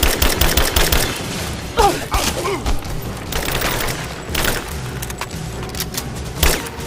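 Gunfire in a firefight in the video game Rise of the Tomb Raider, sharp repeated shots and bursts with booming impacts and splintering hits, loud and close, scattered across the whole stretch.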